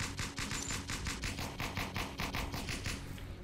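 Rapid automatic gunfire from a weapon in the VRChat video game, a steady fast stream of shots running unbroken at close range and fairly loud, with no talking.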